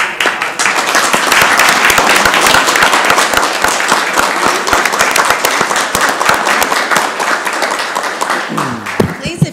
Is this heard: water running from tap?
no